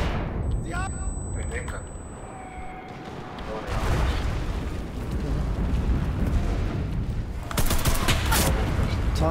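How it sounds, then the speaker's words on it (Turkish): Tank gunfire and heavy explosions in the World War II shooter Enlisted during a Blitzkrieg match, booming blasts and continuous battlefield fire with louder bursts near the end, a voice talking over it. "Tank sıkıp duruyor cidden ya."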